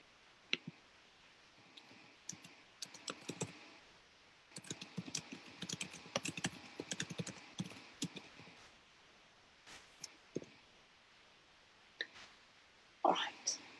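Someone typing a note on a computer keyboard, with scattered bursts of light clicks and taps separated by pauses, fairly quiet and close, with soft whispering heard now and then.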